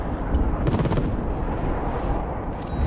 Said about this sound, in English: Roger, strafing the area.